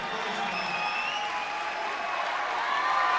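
A Windsor crowd gives a standing ovation to departing player Greg Lutton at a basketball finals game in the Barrie Auditorium; dense, sustained applause with crowd noise fills the hall, loud and continuous throughout.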